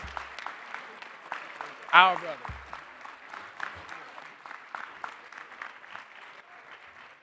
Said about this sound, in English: give our future brothers, the future of Alpha Phi Alpha, a rousing applause